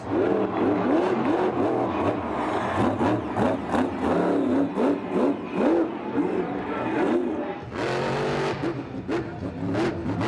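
Blue Thunder monster truck at a Monster Jam event, engine revving hard in rapid pulsing bursts as it bounces across jumps, loud and rough, with brief drops and surges in throttle.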